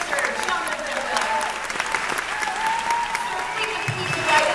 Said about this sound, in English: And a round of applause for Minister Jonah Goodwill.